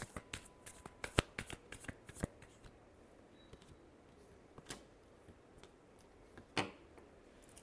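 Tarot cards are shuffled close by, with quick riffles, flicks and soft snaps in irregular bursts against a quiet room.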